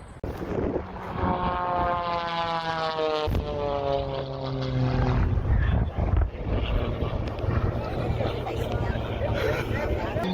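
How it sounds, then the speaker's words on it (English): Antonov aircraft taking off: a propeller engine drone with a clear pitch sweep and a sudden sharp break midway, then broadband rumbling noise, fairly distant, with a narrator talking over it. "Shortly after takeoff, an Antonov Antu clips a tree and crashes."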